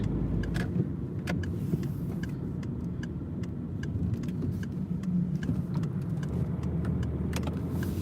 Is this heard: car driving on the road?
yes